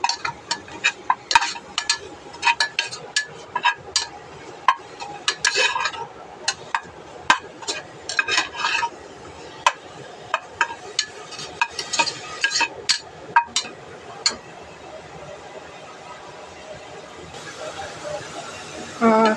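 Grated coconut being stir-fried in ghee with cinnamon in a pan for homemade coconut rice, with repeated sharp spatula scrapes and clicks over a low sizzle while someone talks.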